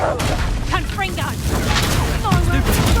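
A Confringo spell blast in Hogwarts Legacy on PS5 booms loudly in a fight, thick with crackling combat noise and character shouts over the dense, continuous effects.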